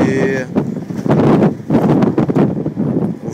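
Gusty wind buffets the microphone at a ferry terminal in Frederikshavn where cars board for Sweden. The rushes come loud and uneven, and a person speaks over them.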